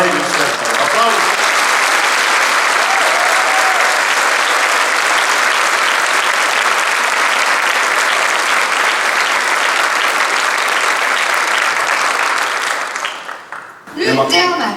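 A large hall audience gives sustained, dense applause to honored teachers and education workers of Pärnumaa, steady for about thirteen seconds before fading, with voices returning briefly at the end.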